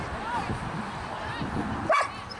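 A single dog bark or yip stands out near the end, rising briefly above a constant murmur of background noise and faint voices.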